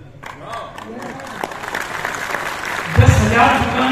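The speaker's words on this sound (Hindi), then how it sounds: "थैंक यू सब लोग ताली करें।" Audience applause at a live event, with clapping building gradually and swelling louder near the end, mixed with a voice and crowd murmur.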